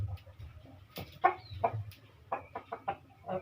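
A chicken suffering from bumblefoot clucks close by in a series of short, irregular calls, with faint low background noise between them.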